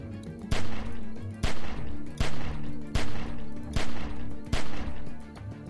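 Game gunfire from The Walking Dead: 400 Days, a steady volley of about six loud, sharp shots spaced roughly evenly apart, with a droning background hum running underneath.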